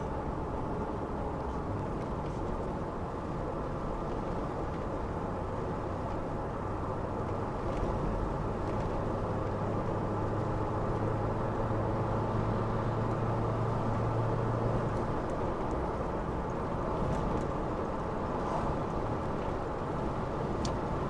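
A Volkswagen Golf 1 GTS accelerating hard after a downshift, with a continuous dense engine and road roar heard from inside the car and a low drone that builds midway.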